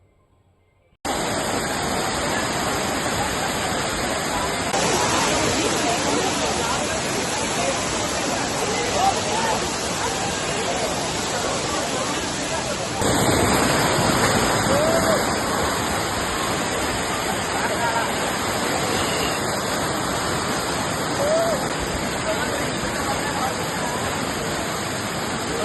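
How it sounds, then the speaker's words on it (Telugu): Kothapalli waterfall thunders with a loud, steady broadband roar of rushing water that fills the whole stretch, shifting slightly in intensity near the middle and holding up close throughout. "చూసారు కదా వాటర్ ఫాల్ ఎంత బాగుందో"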